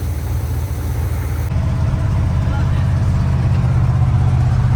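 A 1974 Chevy C20 pickup with a misfire and a newly replaced plug wire runs on the road, its V8 engine rumbling steadily and loudly up close from inside the cab with an uneven throb, no talk over it.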